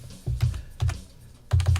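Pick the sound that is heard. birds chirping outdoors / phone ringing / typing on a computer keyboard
typing on a computer keyboard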